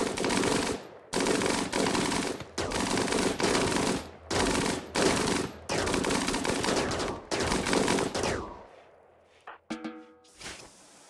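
Rapid automatic gunfire from the video game RimWorld rattles in long repeated bursts separated by short pauses, loud and close, then gives way to scattered quieter shots and clicks at the end.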